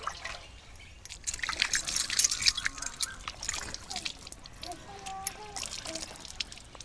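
Clean water splashes and trickles over both hands, rinsing off soap lather during a handwashing demonstration, a steady close wash with brief louder gushes.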